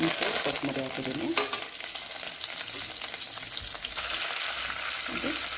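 Cumin, fennel seeds, a single bay leaf and coriander fry in hot oil for ghee rice, giving a loud, steady, close crackling sizzle with some stirring and no voices.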